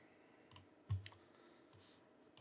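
A computer mouse gives a few soft, close clicks in a quiet room, one slightly louder than the rest, spaced out over a couple of seconds.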